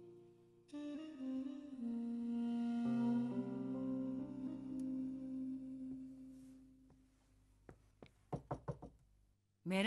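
A sustained low tone fades out, then a quick series of about five sharp knocks on a door rings out close and loud before a final thump.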